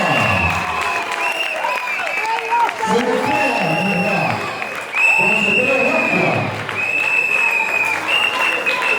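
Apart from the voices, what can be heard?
applause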